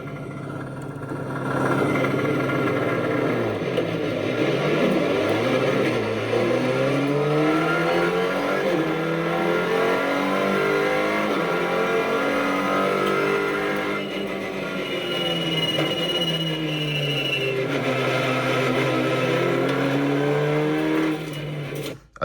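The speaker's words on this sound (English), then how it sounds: "This is me doing a terrible race start and a TCR race this weekend." TCR touring race car engine screaming through a race start, revving hard with rising and falling pitch sweeps as it shifts up through the gears, loud and close throughout with no talk.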